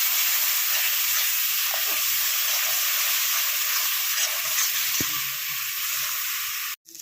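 Ground spice paste with salt and turmeric frying in a pan for a prawn and taro flower dish, giving a loud, continuous close sizzle and hiss with faint stirring scrapes and no talking.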